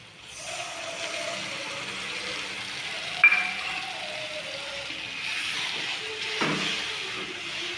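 A spice paste of ground cumin, ginger paste and dried red chilli, with turmeric, frying in a pan: a steady close sizzle and hiss with occasional stirring scrapes and a clink, no talking.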